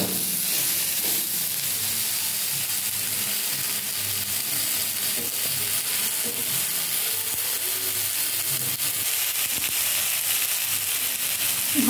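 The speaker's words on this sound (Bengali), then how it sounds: "দিয়ে ভাজছি।" Chilli, onion, ginger, tomato and turmeric frying in hot oil in a home kitchen, giving a steady, close sizzle that runs unbroken throughout, with occasional faint stirring clinks.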